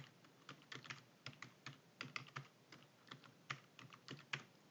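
Rapid clicking keystrokes on a computer keyboard, close and fairly steady, in irregular bursts with brief pauses, no voices.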